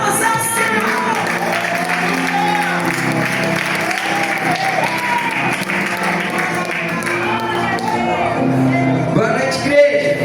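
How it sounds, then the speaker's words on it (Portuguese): A church congregation claps together at an evening service, a dense sustained applause with scattered shouts and whoops, while music plays underneath. "E a salva de palmas ao Senhor"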